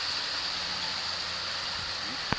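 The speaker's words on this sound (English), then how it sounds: "water running across here" Water runs steadily across exposed subsoil in an erosion setting, a faint continuous hiss and trickle, with a single small knock near the end.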